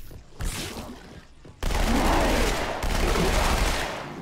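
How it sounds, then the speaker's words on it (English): Suppressive gunfire in the video game Halo 2: a brief burst, then sustained rapid automatic fire with dense, continuous rattling and booming, loud and close. "Suppressive fire! Suppressive fire!"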